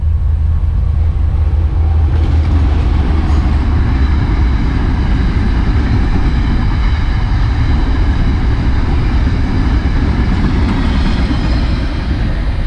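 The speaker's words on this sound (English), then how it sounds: "Oh, there's a train coming." A diesel train rolls past on a rail line near a lakeside walking trail, a loud, steady rumble with broadband clatter that fills the whole stretch without letting up.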